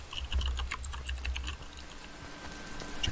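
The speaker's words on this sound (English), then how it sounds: "someone's typing on my keyboard." Rapid computer keyboard typing in the horror video game Stifled, a dense run of crisp keystrokes that thins out toward the end over a faint electronic hum.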